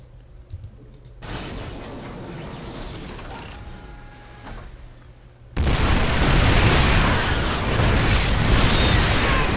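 Terran siege tanks firing on Zerg roaches in StarCraft 2, a dense barrage of heavy booms and crackling impacts that grows sharply louder and fuller halfway through, with busy mechanical battle noise throughout.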